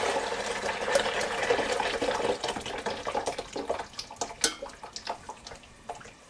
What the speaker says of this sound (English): Just going to drain my noodles.